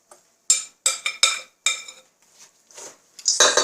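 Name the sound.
mixing granola ingredients with a spoon in a bowl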